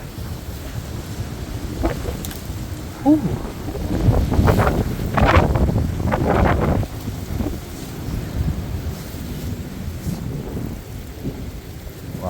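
Heavy rain and wind from Storm Eowyn roar continuously, swelling into a louder rumbling surge midway before easing back to a steady downpour; a person gives a brief exclamation.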